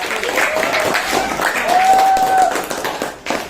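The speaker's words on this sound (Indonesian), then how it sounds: "Beri aplaus pada kelompok 1." Classroom applause for a student group, a moderate burst of clapping from a small group of students that fades out after about three seconds, with voices mixed in.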